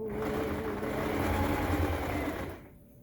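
A sewing machine stitches a dress in a steady, close whirring run that holds for most of the moment, then stops abruptly near the end.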